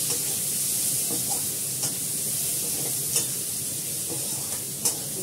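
Potato and onion fry in a pan with pre-fried fish, a steady close sizzle broken by several sharp clicks and scrapes of a spatula stirring against the pan.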